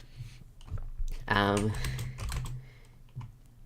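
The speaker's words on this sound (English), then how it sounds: "I'm still getting used to this keyboard." Keystrokes on a computer keyboard clatter close by in a quick, uneven run, with someone speaking over part of the typing.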